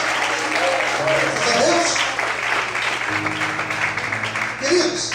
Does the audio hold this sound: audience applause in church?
yes